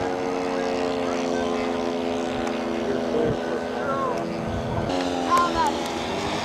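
Engine of a scale model B-25 bomber running steadily at a scale aircraft show, a sustained droning hum with propeller buzz, close and fairly loud, with a brief rise in pitch near the end.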